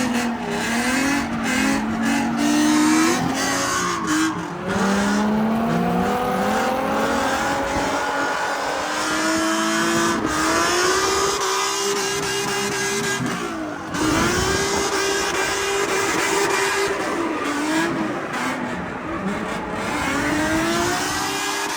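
Race car at an ICAR Street Clash competition, engine loud and close, revving and rising through gears in repeated sweeps, with tire squeal and skidding through corners, running continuously without speech.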